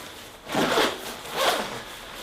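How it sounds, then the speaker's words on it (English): A jacket zipper is pulled up in two quick rasping strokes, close and fairly loud, with no talking. "Let's zip her up"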